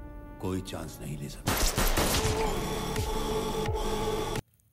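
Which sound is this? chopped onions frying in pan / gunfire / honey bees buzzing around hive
gunfire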